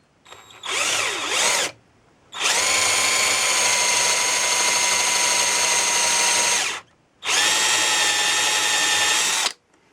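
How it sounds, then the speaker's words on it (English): A power drill boring spindle holes in a greenwood chair runs loud and close in three bursts, a short one followed by two long steady whines, with brief silences between. "I'll get on and drill that now. Drilling now the second one."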